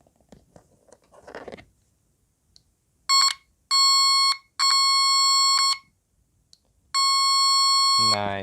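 Alarm-style electronic beep from a homemade bleep button: four loud steady tones, three close together and one after a pause, following some faint handling noise.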